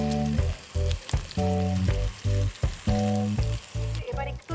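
Chopped onion and garlic frying in olive oil in a pan, heard as a loud, steady sizzle broken by tonal stretches of background music that starts and stops repeatedly, with no one talking.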